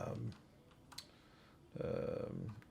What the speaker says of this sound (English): I go on eBay and let's say if I type in